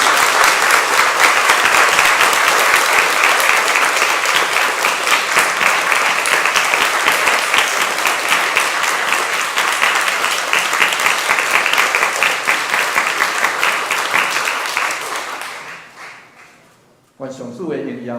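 A church congregation at a Taiwanese-language Christmas praise service breaks into sustained, loud applause that fills the sanctuary for about fifteen seconds before fading away, followed by brief speech.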